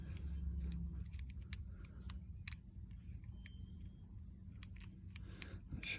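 Lock pick raking the pins of a Master Lock ProSeries 6852 six-pin padlock with a McTickler pick, giving quick scattered metallic clicks and scrapes in short bursts against a low background hum.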